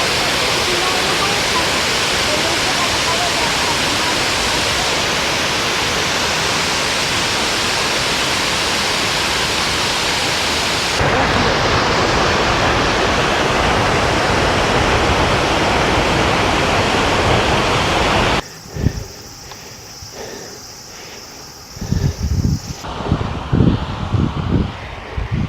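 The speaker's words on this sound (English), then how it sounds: "actually different groups of waterfalls, like one big one and a lot of waterfalls here" Broad, steady roar of a group of waterfalls near Mount Fuji, one big fall among many, close and loud and continuous, shifting in tone partway through as the listener moves, with a few short bumps and rustles near the end.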